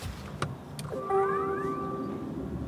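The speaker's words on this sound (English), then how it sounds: "There was a little beep to tell us that the car had switched on" A short electronic chime of rising tones sounds once as an electric car switches on, sustained briefly, against a quiet, steady background hum.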